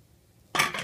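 Soaked sea moss dumped into a metal colander for rinsing, a single short wet clatter and splash that starts abruptly and then settles.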